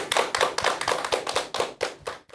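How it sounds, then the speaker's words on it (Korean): An audience at a televised lecture welcomes the speaker with claps that fall in distinct rhythmic bursts, close and crisp, with a few soft thumps and no talk. "큰 박수 부탁드립니다"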